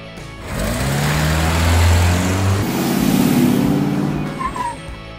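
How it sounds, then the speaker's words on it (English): A monster minivan's engine drones loud and close, its buzzy, mower-like pitch swelling and dipping across several seconds before easing off, with no speech. "Monster Minivan."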